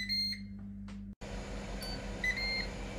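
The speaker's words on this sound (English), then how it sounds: "And the Ninja Foodi's beeped." A Ninja Foodi air fryer gives a few short electronic beeps at the start, then quiet appliance hum and faint tones continue.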